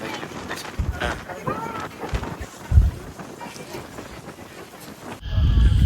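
Rough gusts of strong wind at the Needle Rock viewpoint buffet the microphone in low rumbling bursts, loudest at the end, with faint voices in the background.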